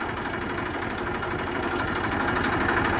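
A 2007 Eicher 380 tractor's Super DI diesel engine idles steadily with a low, even rumble and vibration, close by and continuous throughout.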